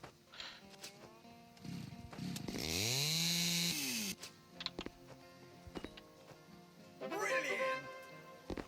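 A chainsaw revs and cuts through logs in the video game House Builder, one loud sustained whining burst of about a second and a half, followed later by a shorter rev, with someone talking in between.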